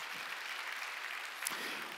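A church congregation claps during Sunday worship, a soft, even patter of many hands heard faintly and from a distance, steady for the whole moment with no speech on top.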